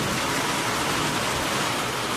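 Heavy night rain pours outside in Budagumpa, a dense, unbroken hiss of falling water, loud and even throughout with no voices.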